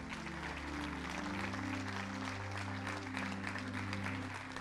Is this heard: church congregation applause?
yes